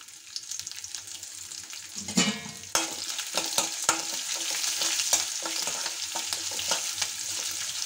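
Dried red chillies and green chillies frying in hot oil, a steady crackling sizzle with a burst of louder spitting about two seconds in, followed by scattered stirring clicks against the pan.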